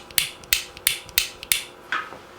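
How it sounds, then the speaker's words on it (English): A NuTone intercom master station's on-off switch, model N2561/N2562, snaps through a series of six sharp, close mechanical clicks at a steady pace, each one crisp and distinct against a quiet background. "That's the sound of a true on-off switch."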